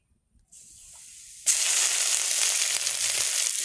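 Spice paste hits hot oil for a Bengali fish curry with bori, a quiet hiss that jumps to a loud, steady sizzle and keeps crackling without pause.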